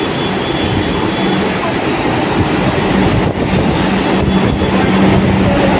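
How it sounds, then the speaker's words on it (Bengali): A Kolkata metro train pulls into a nearly empty station on the line toward Kavi Subhash, producing a loud, continuous rumble and rising roar with no voices. "আমাদের কবি সুভাষ যাওয়ার মেট্রো ঢুকছে।"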